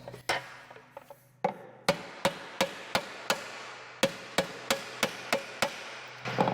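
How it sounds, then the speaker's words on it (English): Repeated sharp metallic hammer strikes on sheet metal with hand tools, about a dozen blows at a steady rhythm with short pauses, ringing slightly after each hit. "So we're trying to hammer a flat spot here while leaving this bubble of information in the metal."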